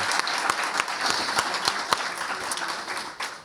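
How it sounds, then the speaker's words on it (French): An audience at a forum on active mobility bursts into applause, a broad wash of many hands with sharper individual claps standing out, steady and close throughout. "je veux leur faire une grande main d'applaudissements"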